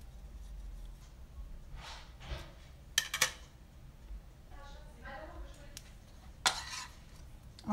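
Utensils clinking and scraping in a bowl while food is mixed, with a few sharp metallic clinks among softer stirring sounds and quiet background noise.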